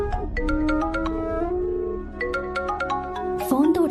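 A mobile phone ringtone plays a bright, repeating melodic tune of chiming tones, loud and close, with a soft burst of other sound near the end.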